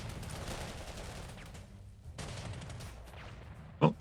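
Artillery and gunfire in the World War II strategy game Panzer Corps 2, a muffled rumble of distant firing with scattered bursts and one sharp louder impact near the end.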